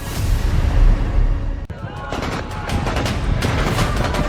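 Gunfire at protesters in Rawalakot, Pakistan-administered Kashmir, heard as a dense, loud, crackling stream of shots and rumbling booms from nearby, with one sharp crack partway through and a crowd noise underneath.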